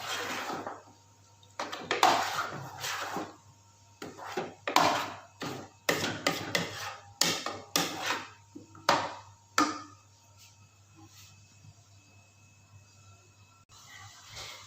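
Semolina being roasted for halwa in a pan, heard as a series of close scraping and clattering strokes of a spoon against the metal, irregular and bursty, then fading to a quiet sizzle.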